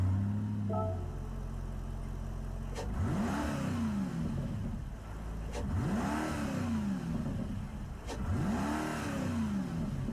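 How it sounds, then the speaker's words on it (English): Supercharged Mercedes engine in Gran Turismo 7, revving up through the gears three times in quick succession, each pull climbing then dropping at a shift, fairly faint and without talk. "The supercharger sounds really subtle."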